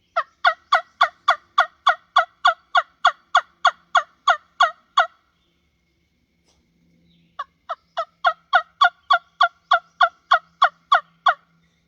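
A wingbone turkey call produces loud, evenly spaced yelps in two long runs of about fifteen notes each, separated by a brief pause, sharp and close against near silence.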